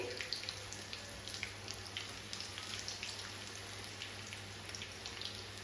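Spinach and potato pakoras frying in hot oil, a faint steady crackle and fine bubbling patter continuing evenly, with a constant low hum underneath.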